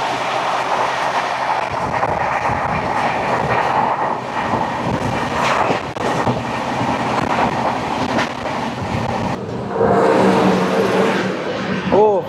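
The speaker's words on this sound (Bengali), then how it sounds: "চলে আসছে ট্রেন নম্বর 19608 মাদার জংশন থেকে কলকাতা এক্সপ্রেস।" Train number 19608, the Madar Junction–Kolkata Express on the Grand Chord line, rumbles loudly past with clattering wheels and wagon noise, a horn-like tone near the end, and voices mixed in.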